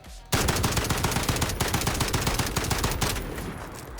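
FAL rifle in Call of Duty Warzone fired at a wooden wall, a rapid loud burst of closely spaced shots starting abruptly and running for several seconds with a slight tail of echo.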